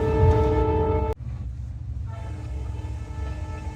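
An Indian Railways Vistadome train sounds a loud, sustained horn, then cuts off abruptly, leaving a steady rumbling run of the moving train.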